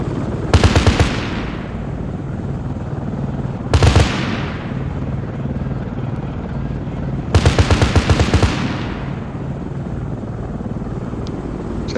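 Three long, loud bursts of rapid automatic gunfire from the military video game Arma 3, heard over the steady drone of a helicopter, each burst ringing out and fading into a sustained rumble.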